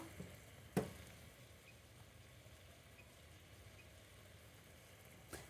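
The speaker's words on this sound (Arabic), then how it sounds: "نحن حنترك البصل يتقلى" Onions frying in a pan give a faint, steady sizzle with a couple of sharp clinks.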